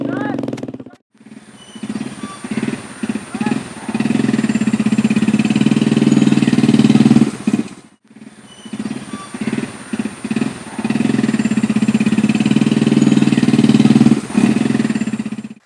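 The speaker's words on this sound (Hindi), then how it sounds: "ओए अशरफ गाड़ी स्टार्ट करो और निकलते हो, निकालो मोटरसाइकिल" A motorcycle engine starts up close and settles into a loud, steady idle. It cuts out and is started again, idling on, while voices talk over it.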